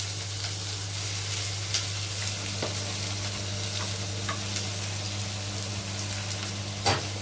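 Onions added bit by bit to garlic in a pan for spicy tomato soup, a steady, soft frying sizzle with a few sharp crackles and stirring clicks scattered throughout.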